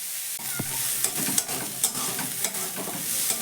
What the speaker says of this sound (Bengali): এবার মশলার সঙ্গে ভালো করে মিশিয়ে নেব।